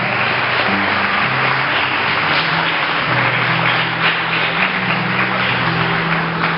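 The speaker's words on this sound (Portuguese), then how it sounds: "Então aplauda esse Deus que é digno." A church congregation claps together, a dense steady wash of applause that carries on throughout, mixed with sustained musical tones underneath.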